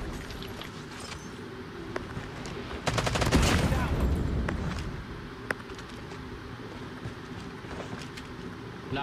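Gunfire in the mobile shooter game Call of Duty Mobile: a burst of rapid automatic shots rises over steady game background sound, followed by a few scattered single shots.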